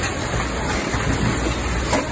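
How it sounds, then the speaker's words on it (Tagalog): Rain falling steadily outdoors, a dense continuous hiss of drops at constant loudness filling the whole short stretch, with no talk. "naliligo dito sa ulan"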